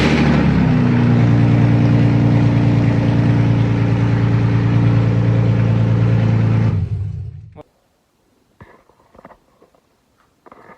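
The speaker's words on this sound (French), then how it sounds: "Et là, bizarrement, je mets un coup de clé et voilà quoi." A BMW E36 engine runs at a loud, steady idle drone, then shuts off abruptly, leaving quiet clicks and faint handling noises.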